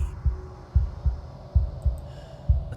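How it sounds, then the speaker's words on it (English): Slow, steady heartbeat from the game Slay The Princess, a wooden and fleshy heart, thudding in an unbroken rhythm of about seven deep low thumps over a soft hum, with no talk. "a wooden and fleshy heart beating with an unbroken rhythm"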